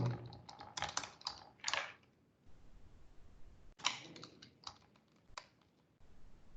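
Python code is typed on a computer keyboard in two close bursts of rapid key clicks separated by a quiet pause, with no talking.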